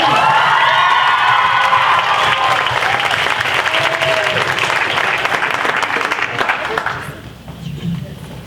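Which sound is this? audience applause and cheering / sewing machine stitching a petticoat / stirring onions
audience applause and cheering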